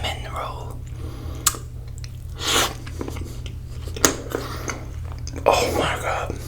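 Close-up bites and chewing of an apple pie cinnamon roll, soft moist mouth sounds with a few sharper bite clicks, accompanied by quiet whispered talk and a low steady hum underneath.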